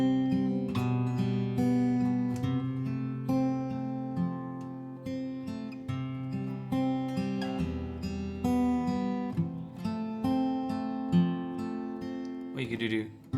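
A guitar plays a fingerpicked P-I-M-I pattern from a song, plucked notes rolling in a steady repeating cycle over held bass notes, close and clear with no talking.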